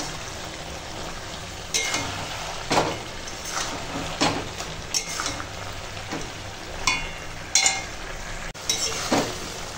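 Vegetables being stirred with mustard and green chilli paste in a frying pan, with a steady sizzle and repeated scraping clinks of a utensil against the pan at irregular intervals.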